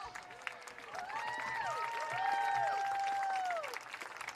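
A crowd applauds steadily at a distance at a high school homecoming football game, with several high whistles rising and falling over the clapping.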